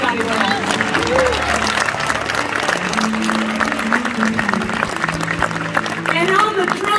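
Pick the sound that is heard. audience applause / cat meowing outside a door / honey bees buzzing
audience applause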